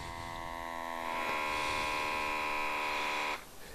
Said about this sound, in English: this pump will automatically activate, turning on and off as needed to keep the tank pressurized